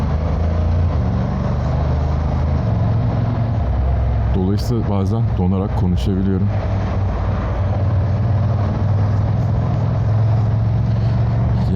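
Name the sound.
Istanbul morning traffic heard from a motorcycle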